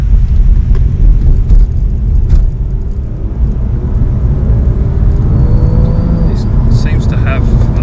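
A 2015 Infiniti Q50 S Hybrid with a 3.5 V6 driven hard in sport mode on the road, its steady engine drone and rumble filling the cabin, while a person talks over it.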